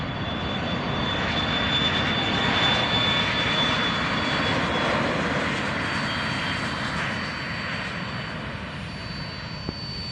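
A private jet takes off from runway 16R at Van Nuys Airport with a loud, steady engine roar that holds for about ten seconds and eases slightly toward the end, joined by a thin high whine.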